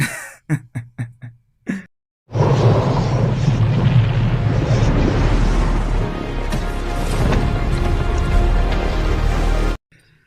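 After a few short sharp knocks, a massive rumbling blast erupts on a ship and roars on for several seconds, with crackling debris, before ending abruptly.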